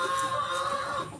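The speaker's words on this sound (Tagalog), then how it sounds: "Yan ang manok kanila." Chickens kept on a heritage chicken farm give a short, faint clucking call over a soft background hum, with no talking.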